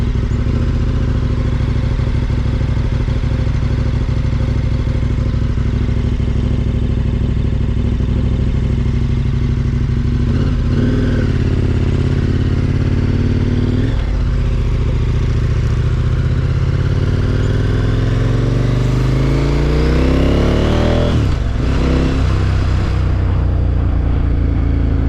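A KTM 1290 motorcycle engine drones loud and close under wind rush, its pitch dipping and climbing through several gear changes as the bike is ridden.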